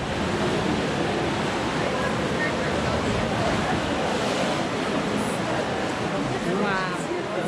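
Sea waves wash steadily near Hercules Cave in Tangier, a broad, continuous surf roar with wind buffeting the microphone and faint voices underneath.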